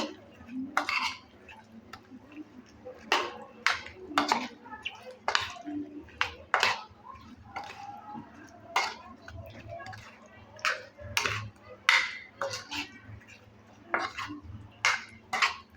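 Soybeans mixed with yogurt and chopped garlic in a bowl, with a spoon producing quick, repeated clinks and scraping strokes under intermittent talk.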